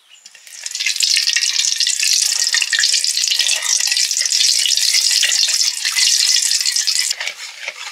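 Sugar dropped into hot oil in a wok bursts into a loud, close, bright sizzle almost at once. It holds steady and harsh for several seconds, then begins to ease off at the end.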